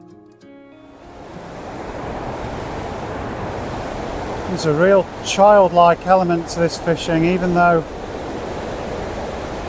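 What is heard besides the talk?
roar of water over a weir on a chalk stream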